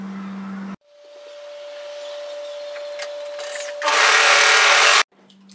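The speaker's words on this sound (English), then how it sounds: "take the neck band and place it right sides together and then overlock the short ends" An overlocker sews the short ends of a knit neck band, a steady machine whir that rises to a louder, faster buzz near the end before cutting off, with a short tone before and after.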